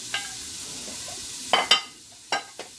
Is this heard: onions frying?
yes